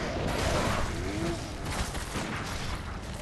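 Gunfire in the dark action game Bloodborne cracks out as a few rough, fairly quiet shots and impacts over a noisy game soundscape, with no talk.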